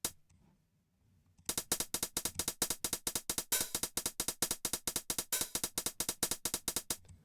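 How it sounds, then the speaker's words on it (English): Fast, evenly spaced hi-hat strikes, a small cymbal ticking in a rolling pattern inside a synth dungeon track, starting after a quiet opening and running steadily to the end. "a hi-hat is a little cymbal that sounds like this"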